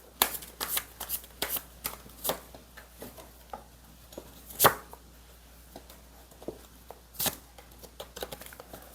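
Tarot cards are shuffled and handled close up, with quick crisp riffles, slaps and snaps in uneven bursts against a quiet background.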